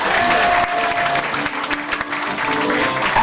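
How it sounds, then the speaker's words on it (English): A cruise ship audience breaks into a sustained round of applause for the host, steady and fairly close, with faint crowd voices mixed in. "How about a nice round of applause for your host,"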